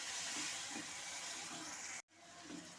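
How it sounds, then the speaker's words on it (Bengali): Potatoes fry with ground spices and a splash of water in a pan, giving a steady, close sizzling hiss that cuts out for a moment near the end, then resumes. "গুঁড়া মশলাটা যাতে জ্বলে না যায় তার জন্য আমি একটু সামান্য জল দিয়ে আলুর সাথে সমস্ত মশলাটা কষে নেব"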